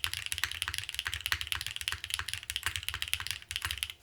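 Typing on a Keycult No. 3 custom mechanical keyboard, a quick irregular stream of crisp keystrokes with occasional heavier thocks, close and fairly quiet, no talking.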